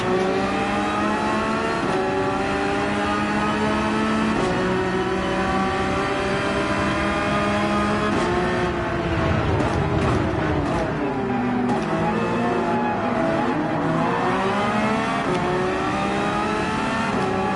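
Race cars revving on the grid at Red Bull Ring in Gran Turismo 7, a loud continuous engine roar with rising and falling revs as the start is released, dense and unbroken throughout.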